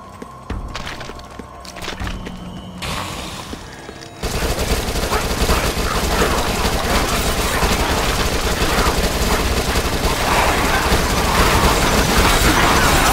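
Submachine gun fire in the top-down zombie shooter Dead Nation: after a few seconds of quieter game sounds, loud sustained rapid bursts pour out continuously, dense and close, running to the end.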